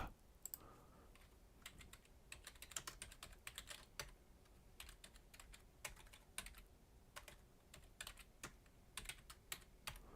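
Rapid clicks of a computer keyboard as a tweet is typed, bursts of keystrokes with short pauses, close and fairly quiet with no talking.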